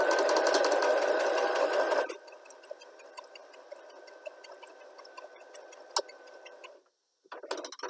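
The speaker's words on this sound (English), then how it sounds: "you're going to be stitching about 1 centimetre away from the edge" A sewing machine stitches fabric in a close, fast, steady whir for about two seconds, then stops, leaving faint ticks and small clicks before a brief final burst of stitching.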